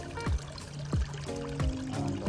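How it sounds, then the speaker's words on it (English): Water from a small garden waterfall splashes into a goldfish pond in a light, continuous trickle. Low, swooping gurgles recur roughly every half second to second over a faint steady hum. "put the plants there on the waterfall to help guide the water to fall into the pond"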